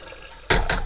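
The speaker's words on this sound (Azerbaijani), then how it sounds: "Məncə biraz su əlavə eləyim buna." Water poured into a cooking pot while making a cake: a sudden, close gush of liquid that starts midway and continues to the end.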